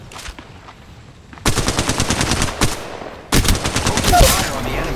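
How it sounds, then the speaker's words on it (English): Gunfire in Apex Legends Mobile: after a few faint early shots, two loud bursts of rapid automatic fire rattle close by, separated by a short gap, with no voices. "Open fire on the enemy."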